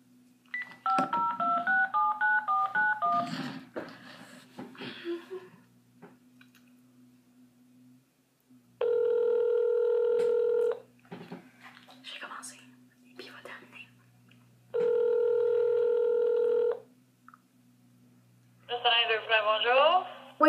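Touch-tone keys dial a telephone for a prank call to a pizzeria, followed by two long ringback tones with pauses between them, while people whisper quietly nearby.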